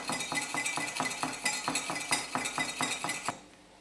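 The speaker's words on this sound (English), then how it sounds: "I'm going to whisk the salt and sugar" A whisk beats salt and brown sugar into beer in a bowl in quick, even strokes, rapid rhythmic clicks and swishes close up that stop abruptly near the end.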